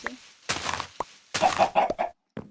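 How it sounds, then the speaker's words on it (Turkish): A chicken in the Minecraft video game clucks in several short, loud bursts separated by brief pauses. "yine tavuk geldi"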